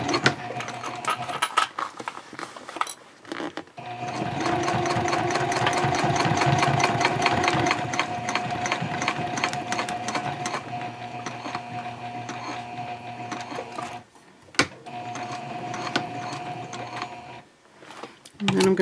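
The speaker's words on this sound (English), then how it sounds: "Then you're going to pivot and just top stitch straight across." A sewing machine top stitches a seam on a City Messenger Bag, running in long steady bursts of rapid needle clatter with short pauses for pivoting and back stitching.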